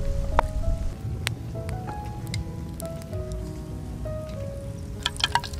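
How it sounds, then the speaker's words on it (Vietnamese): Heavy rain pours down outdoors in a countryside field, a steady close patter on surfaces with scattered sharper drips and a few faint clinks over the wash. "Nãy giờ mưa quá trời mưa luôn."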